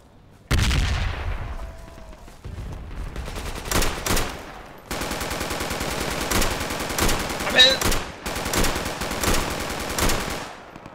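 Grenade blast and heavy gunfire in the Vietnam-era military shooter Project Reality: a sharp boom opens, followed by dense, sustained automatic fire and scattered shots, loud and close, with bursts continuing throughout.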